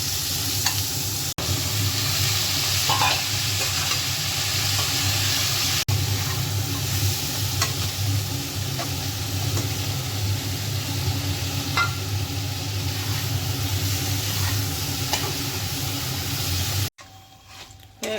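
Garlic and half a large onion frying in a pan, a loud, close, continuous sizzle with occasional stirring scrapes, cutting off abruptly near the end, with no talking.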